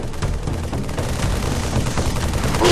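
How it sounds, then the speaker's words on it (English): Rapid automatic assault rifle gunfire from the Halo 3 video game, a dense continuous stream of shots and booms that stays loud and close for the whole stretch. "Tom Doyle, said, hey, this is a great chance to bring back the assault rifle from Halo 1"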